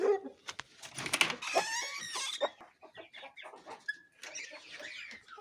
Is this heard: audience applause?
no